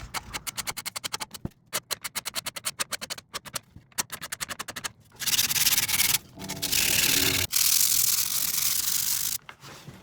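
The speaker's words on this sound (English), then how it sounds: "Now it's time to prep and scrape the top tier." Hand scraping on the top tier of a late 19th-century two-tier antique dumbwaiter, working from the outside in on veneer: rapid rhythmic rasping strokes at first, then longer continuous loud scraping passes close by, with no voices.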